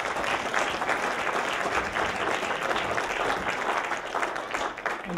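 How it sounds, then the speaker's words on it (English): Steady applause from an audience at a Christian magicians' fellowship show greets a magician, with dense clapping at a consistent level for the full span. "Everybody, put your hands together for the magic of Brad Brown."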